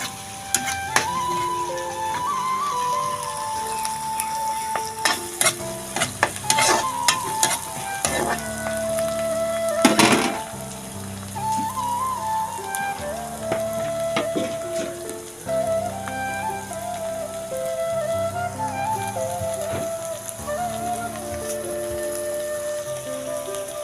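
Ginger and garlic fry in a pan with a bright, continuous sizzle, broken by clattering stirring and scraping strokes and a louder burst partway through.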